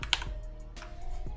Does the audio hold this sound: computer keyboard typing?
yes